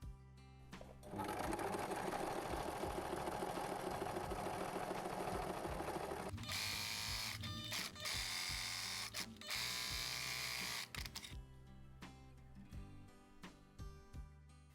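Sewing machine stitching with a zipper foot fitted, running steadily with a close, rapid mechanical whir, pausing briefly and then resuming in longer bursts before slowing to a few scattered clicks.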